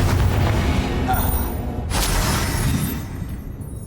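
A heavy, rumbling blast from the Confringo spell in Hogwarts Legacy, with a booming, crackling body that rolls on and then fades out over a few seconds with no talk over it.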